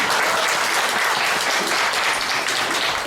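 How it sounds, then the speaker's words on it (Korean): Loud, dense applause from a Sunday worship congregation in a church, continuous clapping at full strength throughout without pause. "다시 한번 주님께 영광의 박수를 올려드리겠습니다"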